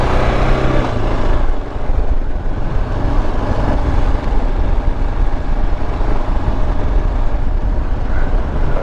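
A Kawasaki KLR 650 dual-sport motorcycle riding an off-road trail, its engine droning steadily and loudly up close along with wind and rumble throughout.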